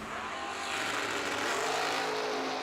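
Race cars, a Duster and a Lumina, launch off the line at a drag event, with a loud, continuous engine roar building steadily through the clip and no talk.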